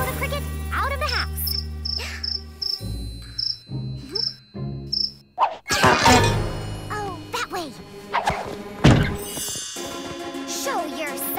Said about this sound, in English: I can't sleep with all that chirping. I'm going to find the cricket